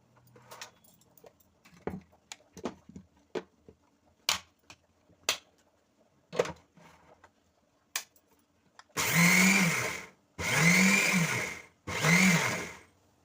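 A mixer grinder grinds soaked ration rice in three loud, close bursts of whirring motor noise, separated by short pauses, after a run of small clicks and knocks.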